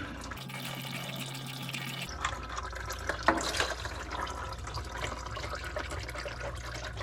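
Oil drains from a 2023 Honda Talon 1000R into a pan: a steady trickling, splashing flow of liquid, close up and fairly faint, with a few small knocks partway through.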